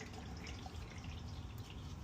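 Diesel motor oil from a 2014 Ford F350 6.7 drains in a steady stream into a pan, a continuous low splashing patter with fine drips, close and fairly quiet, with no voices.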